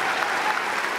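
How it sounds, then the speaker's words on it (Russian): Dense audience applause fills a hall at a student commencement, a uniform wash of many hands clapping at even loudness for the whole short stretch, with no voices rising above it. "Аплодируем вам"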